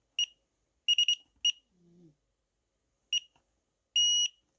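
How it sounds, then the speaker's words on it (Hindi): A fingerprint gate lock's keypad gives short electronic beeps as it is pressed, several quick chirps spaced apart, ending in one longer confirming beep, loud and close with a faint low sound between. "ये लंबी बीप दी, 2 बार दबाना होता है, 2 बार सक्सेसफुल हो जाए तो लंबी बीप देता है"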